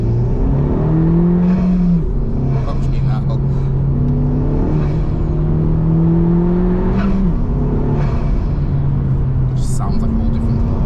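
A Honda Civic Type R FK2 in R+ mode accelerates from inside the cabin, a loud steady engine drone rising and falling in pitch through gear changes over the whole stretch, with people talking over it.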